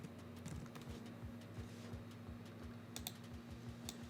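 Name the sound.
typing on a computer keyboard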